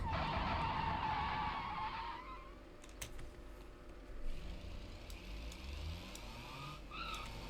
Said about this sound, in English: the new braking sound is pretty cool. It makes BeamNG slightly even more realistic.